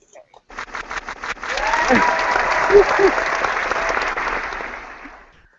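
An audience breaks into applause after a few scattered early claps, swelling into sustained clapping that holds steady for several seconds before tapering off; a couple of brief voices sound over it.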